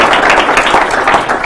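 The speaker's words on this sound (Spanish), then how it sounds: "Le pido otro aplauso para el candidato a vicepresidente." An audience applauds a vice-presidential candidate at an interview event, a brief, dense burst of loud clapping from a crowd.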